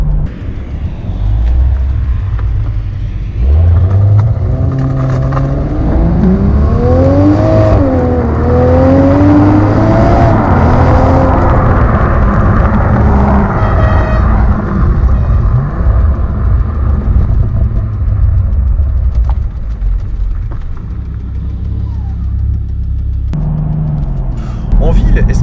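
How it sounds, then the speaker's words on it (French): A Toyota Supra 3.0L with a BMW straight-six drives along, recorded from the rear, its exhaust rising and falling in pitch through revs and gear changes, loud and sustained with someone talking over it. "On a vraiment une sonorité typique des 6 cylindres de chez BMW"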